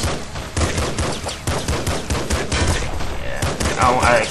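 Rapid gunfire in the top-down shooter Nuclear Throne, dense bursts of shots in a steady, loud stream with some brighter electronic effects near the end, no voices.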